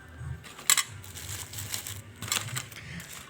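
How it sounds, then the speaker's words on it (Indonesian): Dry mung beans poured into a plastic bag, a rustling, pattering rattle of many small hard grains with a couple of sharper bursts, close by and fairly quiet. "kacang hijaunya dimasukkan dalam plastik"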